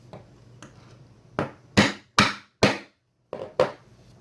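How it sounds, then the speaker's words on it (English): Hammer tapping a Lee Loader decapping pin to knock the spent primer out of a .44 Magnum case, a handful of sharp, close knocks in an uneven rhythm, the middle strikes loudest, no talking. "we're simply going to tap it with the hammer, and we're going to knock that spent primer out"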